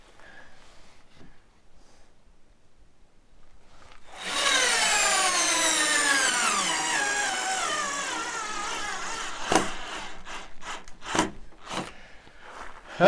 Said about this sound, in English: I'm gonna have to go to the corded drill.